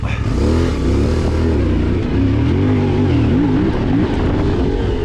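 A CFMOTO Ibex 450 twin-cylinder motorcycle accelerates hard on an intermediate enduro track, its engine note loud and close, rising and falling with throttle changes over a steady rumble.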